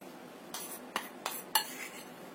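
Spoon scooping flour for Indonesian dragon cookies, four soft clinks of a tablespoon against a bowl or container, spaced about a third of a second apart, close and quiet with no talking.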